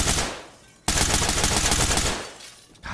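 Gunfire in the tactical shooter game Ready or Not: a loud, rapid automatic burst lasting over a second, close and sustained, with a quieter burst before it and a fresh shot at the end.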